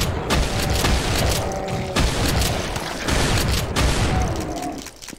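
Shotgun blasts in a Doom mod video game, loud booming shots fired in quick succession with mechanical pump and reload clacks between them, close and continuous.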